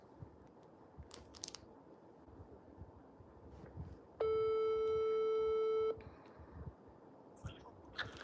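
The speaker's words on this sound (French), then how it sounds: "nous allons appeler Pifo" A telephone call's ringing tone, one steady electronic tone lasting under two seconds, clear and fairly loud over a low background hiss, with faint noises before and after.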